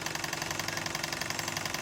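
A Wilesco D16 toy steam engine with a Watt governor chugs in a fast, steady rhythm of close mechanical beats while it drives an alternator that lights a bulb, the engine slowing under the electrical load.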